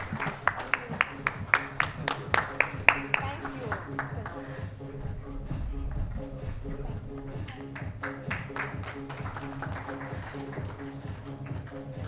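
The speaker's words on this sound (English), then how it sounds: "Can we have a big hand applause for them once again," Conference audience at a kidney health event gives applause, starting with sharp separate claps that blend into a steady, moderate round of clapping from a crowd, with some talking mixed in.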